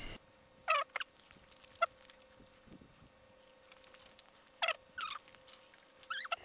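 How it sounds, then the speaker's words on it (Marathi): Peacock calls at a forest resort near Lonavala, loud, sharp cries in a few separate bursts, with faint steady insect buzzing and scattered small noises between them. "आम्हाला मोराचा आवाज पण येतोय, किड्यांचा आवाज येतोय."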